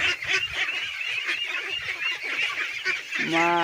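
Young farm-raised ducks call together in a dense, continuous chorus of close, high honking quacks, ending in a louder, more drawn-out call.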